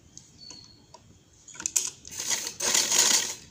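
Sewing machine stitching doori piping onto a dupatta, starting with a few light ticks and then building into a rapid, close mechanical chatter of the needle running steadily toward the end.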